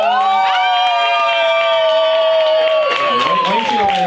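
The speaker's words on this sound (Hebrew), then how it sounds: "מחיאות כפיים לאנטונלה!" An audience cheers for Antonela, Seven Rings performer, with a loud, sustained high-pitched shout of excitement dominating over scattered claps, wavering and tailing off toward the end.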